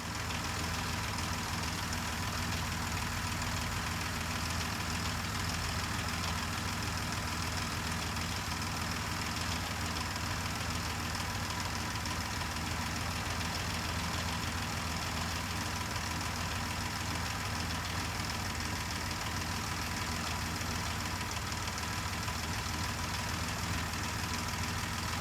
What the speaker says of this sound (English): the tappets on the engine are a little too clattery for my liking, a little noisy